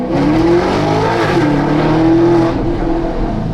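A Maserati GranTurismo Sport engine revs loudly and close, its sustained throaty tone rising and falling in pitch for several seconds before easing slightly at the end.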